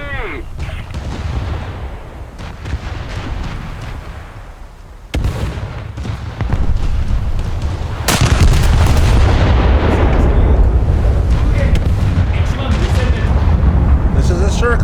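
Slow-firing naval guns aboard the warship Kurama in a video game: two heavy booms about three seconds apart, each leaving a long, loud rumbling roar, with a voice talking over the battle.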